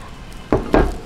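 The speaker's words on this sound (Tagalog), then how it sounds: "At ako po ay hinahalo ko po sa sugar." A spoon scrapes and clinks against a bowl as crushed sesame seeds are stirred into sugar for palitaw, two short close strokes over a faint background hiss.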